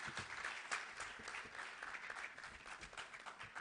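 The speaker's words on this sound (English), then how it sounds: "Veuillez les applaudir, s'il vous plaît." Audience applause at a live port and maritime event, a steady wash of many hands clapping, fairly faint and even throughout with no speech on top.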